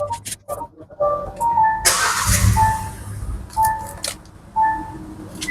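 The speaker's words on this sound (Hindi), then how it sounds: "Let's start the car." A 2024 Kia Seltos HTK Plus starting up, with a short whirring crank and engine catch settling to an idle, mixed with electronic chimes from the instrument cluster before and after.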